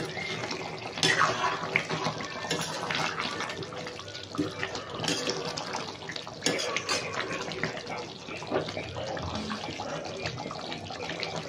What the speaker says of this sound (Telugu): ఇప్పుడు మనం కొంచెం టమాటా వేసిన దాంట్లో మిక్సీలో కొంచెం వాటర్ వేసుకొని వేద్దాము.